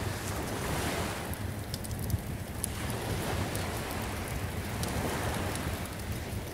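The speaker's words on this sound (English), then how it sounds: "Your dreams are filled with the sounds of the waves" Ocean surf washes in a continuous, broad roar with gentle swells in loudness, mixed with a windy hiss and no voices.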